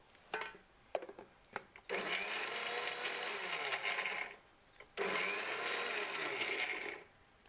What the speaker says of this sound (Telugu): ఇప్పుడు ఎండు కొబ్బరిని కూడా ఇందులో వేసేద్దాం. ఇది కూడా ఒకసారి మిక్సీ పట్టేద్దాం.